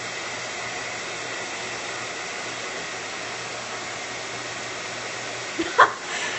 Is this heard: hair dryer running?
yes